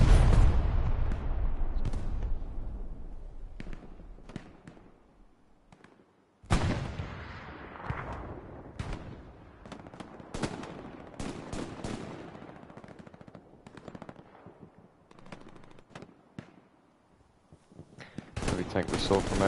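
Rapid machine-gun bursts and scattered rifle shots crack through a Hell Let Loose battle on PS5, with dense overlapping gunfire, a sudden loud burst midway and heavier artillery-like booms, under occasional voices.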